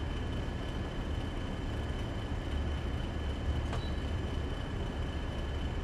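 Class 40 diesel locomotive pulling away from Piccadilly station in Train Sim World 3, a steady low engine rumble and rolling drone continuing evenly throughout, with a brief faint squeal midway.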